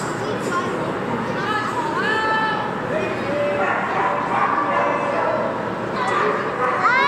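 A search dog barks its call-out at a pet and animal expo, with short yips and whimpering barks rising over a loud, busy crowd with people talking nearby.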